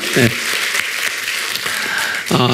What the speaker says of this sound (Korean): 우리 박수를 좀 쳐주세요